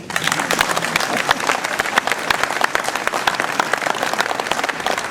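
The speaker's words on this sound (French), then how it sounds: "Et on peut l'applaudir." An audience at a mayor's New Year address in Ouistreham town hall, France, applauds a medal presentation steadily, dense clapping at an even level throughout, with a faint voice briefly underneath.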